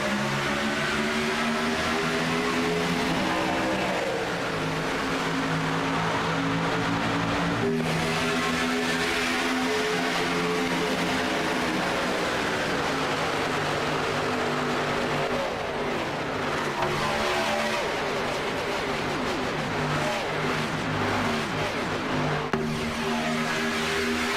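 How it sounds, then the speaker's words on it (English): Race cars from a racing video game at Daytona rip past at the start under green flag, a loud sustained engine roar with rising and falling pitch as cars pass, continuous throughout. "Beautiful sound of those cars ripping by on the start of this thing"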